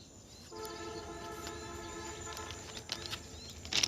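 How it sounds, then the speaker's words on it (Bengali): A passenger train on the railway line near Natore approaches with a long steady horn blast, its rumble on the rails building toward the end, with no talking over it. "ঢাকা রাজশাহী হতে ট্রেন আসে,"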